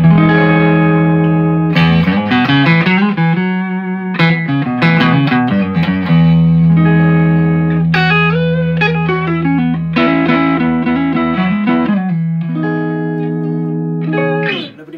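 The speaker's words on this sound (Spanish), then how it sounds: "vamos a escuchar cómo sonaría el JTM45 y la Strato." Fender Stratocaster electric guitar played through a Marshall JTM45 amp, loud clean-to-crunchy chords and single-note lines with ringing sustain and a touch of effects, played alone.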